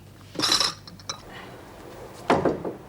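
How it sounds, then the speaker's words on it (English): Dishes being washed by hand, with plates, glasses and cutlery clinking in two close bursts and quiet pauses between them, with no talking. "Sure you don't mind doing all those dishes on your own?"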